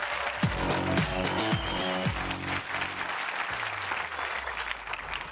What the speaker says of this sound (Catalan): Gerardo Pisarello, l'aplaudiment per ell.